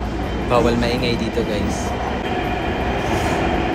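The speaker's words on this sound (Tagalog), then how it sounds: "So ngayon, sasakay muna tayo ng tren." Train running on rails in Taiwan, a steady rumbling ride noise with a brief squeal of wheels early on, and a person speaking over it.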